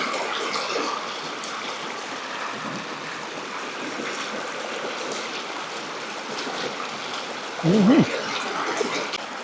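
River water flows beside a riverside meal spot, a continuous close rushing and gurgling wash, with a brief louder splash or knock near the end.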